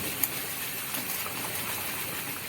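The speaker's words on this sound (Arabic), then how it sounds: "المكرونه عماله تغلي كده، هتغلي" Pasta boils in a pot of water with a steady, close, hissing bubble that runs evenly throughout, with no voices over it.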